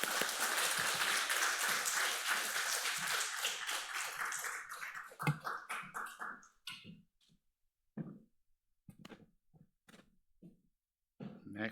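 A church congregation claps in welcome at a Sunday service, full and steady for about five seconds before breaking into scattered claps that trail off.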